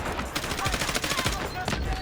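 Rapid automatic gunfire in the Delta Force video game, a dense rattle of shots in quick bursts, loud and close, over a short stretch.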